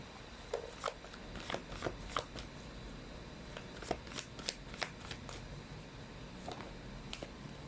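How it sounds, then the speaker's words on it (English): Tarot cards shuffled and handled up close, irregular bursts of soft snapping riffles and slides with pauses between, quiet and with no talking. "let's try to pull up another set of cards here"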